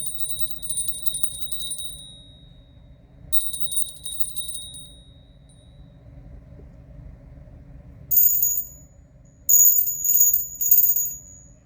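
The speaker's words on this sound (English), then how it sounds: "Every time a bell rings, angel gets their wings." A small ringing bell, struck to clear the air, chimes in a few bright shimmering bursts, two longer rings early then three quick clustered rings near the end, over a faint low background hum.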